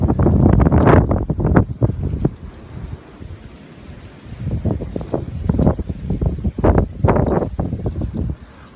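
Gusty wind blows outdoors in bursts against the microphone, loud rushing buffets rising and falling, with quieter lulls between gusts.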